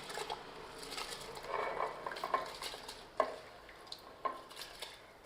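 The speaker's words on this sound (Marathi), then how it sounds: "ह्याच्यामध्ये हा स्वच्छ धुतलेला तांदूळ जो आहे तो ह्याच्यामध्ये घालूया" Washed rice goes into a pot of boiling water while cooking mutton dum biryani. Close, soft patter and bubbling are broken by a few sharp clinks of a utensil against the pot.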